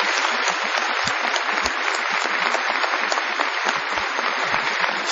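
Dense, sustained applause from an audience at a speech, loud and steady for the whole stretch with no break, filling the room.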